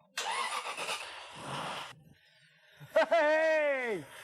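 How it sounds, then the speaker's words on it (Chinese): A modified Aston Martin engine, fitted with extra intake parts for more airflow and power, bursts into a loud rough roar for about two seconds, falls quiet, then returns with a sharp rising-and-falling rev that fades out. "现在引擎的额外零件已经装上，请大家欣赏它的咆哮。"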